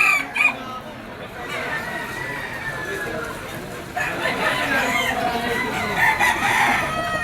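Roosters crow and hens cluck amid a busy outdoor pet market in Malabon, the calls loud and overlapping with crowd chatter and people talking nearby.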